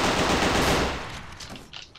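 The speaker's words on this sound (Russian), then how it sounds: "Еще один выстрел." A dense burst of rapid automatic gunfire from a shooter video game, loud and continuous at first, then thinning into a few scattered shots as it fades.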